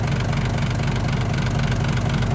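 A rice combine harvester's engine idles close by, producing a loud, steady, throbbing low rumble with an even mechanical pulse and no other sounds.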